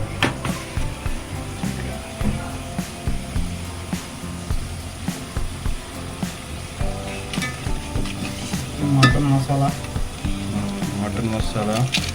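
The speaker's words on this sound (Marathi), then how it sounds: "हळद एक चमच टाकतोय मटणामध्ये" Mutton fries with turmeric in a pan, a continuous sizzle broken by repeated stirring scrapes and clinks, with someone talking intermittently over the cooking.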